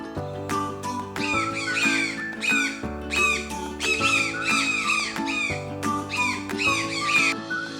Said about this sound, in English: Toucans do not chirp like other birds. They sound more like a frog croaking.